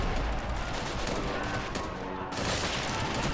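Artillery shelling in the World War II strategy game Men of War, in a mountain assault by the Red Army, is heard as dense, continuous rumbling bursts and blasts with one brief lull near the middle.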